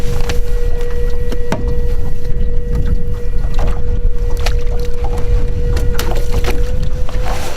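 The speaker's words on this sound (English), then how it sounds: "we do have the Torqeedo on board today, and we are cruising right along" A boat cruising on a Torqeedo Travel 1003C electric outboard on the way to a morning duck hunt, a steady loud electric motor whine with water rush and occasional knocks on the hull.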